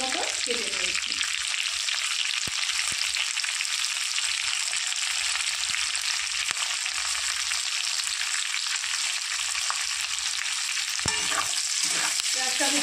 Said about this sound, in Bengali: এবার পেঁয়াজটা আমি লাল করে ভেজে নেব।